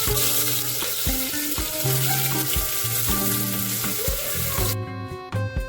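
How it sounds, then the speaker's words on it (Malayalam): Onions hit hot fat with cloves and cinnamon while starting ghee rice for a Malabar biryani, a loud, steady close sizzle running without pause until it cuts off near the end. "നെയ്ച്ചോറിന് കറാമ്പും പട്ടയൊക്കെ ഇട്ടൊന്ന് പൊട്ടിച്ചതിന് ശേഷം ഉള്ളി ഇട്ട് കൊടുത്തിട്ട്"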